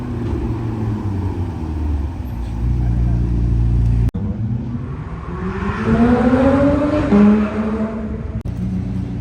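A McLaren Sabre and other supercars pull away, one after another: a deep engine rumble builds into a rising rev that sweeps past up close, then fades.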